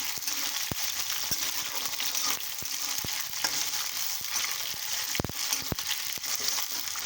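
Onions sizzle steadily in hot oil with whole spices, a dense, even crackle broken by sharp clicks and scrapes of a spoon stirring the pan, close and continuous with no talking.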